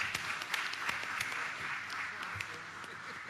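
At a board of education meeting, the room gives a short round of clapping, fairly faint and spread out, with a voice talking over it.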